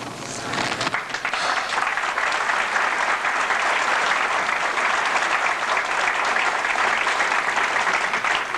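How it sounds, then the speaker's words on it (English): Loud sustained applause from a large crowd at a graduation speech, steady clapping that begins abruptly and continues throughout without voices. "I appreciate that applause"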